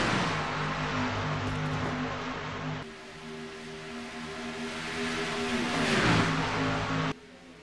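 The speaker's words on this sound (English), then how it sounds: "William Brock, the leading Chevrolet in this field right here, as we're completing the second lap of this race." Chevrolet stock race cars roar past at speed on an oval, engines droning with harmonic whine, one car's pitch dropping as it passes near, then a steady loud pack sound continuing to the end.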